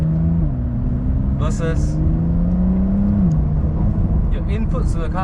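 Porsche 992 Carrera 4S engine droning steadily while driving, with a gear change early and another drop in revs midway, under some brief chatter and tonal blips.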